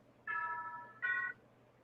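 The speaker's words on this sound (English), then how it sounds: "Sounded like a doorbell." A phone notification plays a two-tone electronic chime, like a doorbell ding-dong, fairly faint against a low hum.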